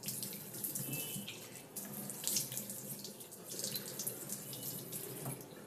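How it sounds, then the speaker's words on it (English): A tap runs steadily into a sink while someone washes her face, a continuous close splashing stream with small shifts as hands move through the water. "I'm going to just rub my skin and then I'm going to wash off my skin"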